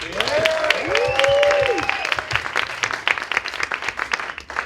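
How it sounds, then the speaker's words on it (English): An audience at a television producers panel gives a round of applause, hearty clapping from a crowd that thins into scattered claps, with a voice speaking over the start. "Loud round of applause for Marci Hughes"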